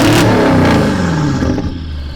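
Straight-piped twin-turbo V8 BMW making about 600 horsepower with an aggressive tune, a loud close rev that rises and then falls away, harsh and raspy with turbo whir.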